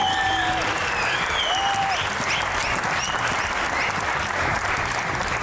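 A studio audience applauds steadily and loudly for the guests on a Pakistani comedy talk show, a dense, unbroken wash of clapping that lasts the whole stretch with no break.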